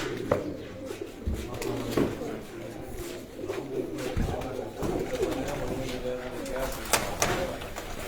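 Pigeons cooing in a breeder's loft, soft repeated low coos mixed with wing flutters and scuffles close by, while people talk over them.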